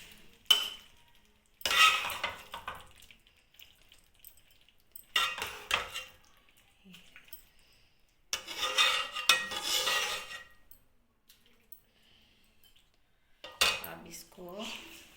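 Serving spoon clinking against a pan and dishes while aloo anda bhujia is dished out, with distinct bursts of scraping and clatter separated by quiet gaps, close and fairly loud.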